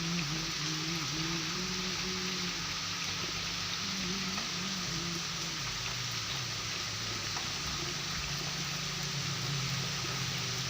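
Heavy rain falls in Purulia district, West Bengal, a steady, unbroken hiss lasting throughout, with faint low humming tones wavering beneath it.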